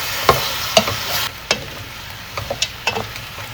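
Turkey sautéing with fish sauce in a pan: a constant sizzle with sharp spatula knocks and scrapes, a few early and a quick cluster near the end.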